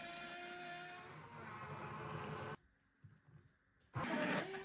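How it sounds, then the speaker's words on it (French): A kitchen blender grinds chili and bell pepper for an okra sauce with a steady, loud whirring drone that cuts out abruptly, leaving a moment of quiet handling before the motor roars back on; no talk. "je vais venir mixer le tout pendant 1 minute"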